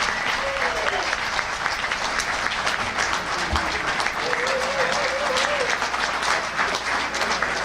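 Audience at an induction ceremony for a 2002 Immaculate Heart girls basketball team breaking into sustained applause with crowd cheering, dense and even throughout, with voices mixed in.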